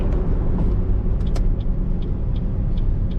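A truck follows close behind a moving car, its deep engine rumble blending into steady road noise, with a few faint clicks and ticks inside the cabin.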